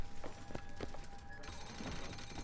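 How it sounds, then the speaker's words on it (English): A telephone rings in a fine office in the video game BioShock Infinite, a faint repeating bell under busy game ambience and distant noises, with a brighter high ringing tone entering halfway through. "what phone is ringing?"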